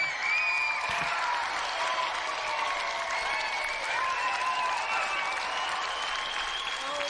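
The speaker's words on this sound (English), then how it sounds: "let's have another round of applause for a true Christmas champion, Paul Tucker." An audience claps in sustained applause at a Christmas-themed livestream event, a dense, even patter of many hands held at a steady level for several seconds.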